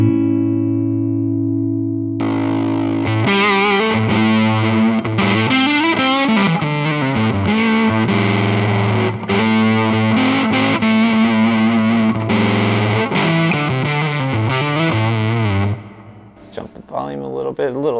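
Electric guitar played through a Stew Mac Sun Fuzz kit pedal into a Super Oak Keeley Custom 10 amp with a 10-inch speaker, with some reverb: a thick, continuous distorted riff with sustained notes, loud and steady throughout, ending in a brief noisy tail.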